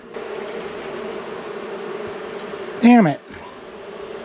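Bees buzz steadily in a dense, close drone at a beehive cutout inside a wall, with someone briefly speaking in a short louder burst partway through.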